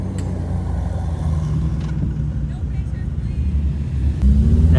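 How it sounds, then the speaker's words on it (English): Ferrari F8 supercar rolling in along a small-town street during a fall Ferrari cruise gathering, a steady low engine rumble that swells louder near the end, heard amid crowd chatter. "Another F8 rolling in"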